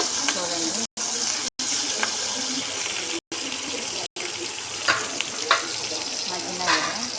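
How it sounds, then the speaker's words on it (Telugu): Chopped onions, tomatoes and curry leaves sizzle in a hot pan, a steady close crackle with a few stirring scrapes and brief gaps. "ఉల్లిగడ్డలు టమాటాలు కరివేపాకు వేస్తున్నాను"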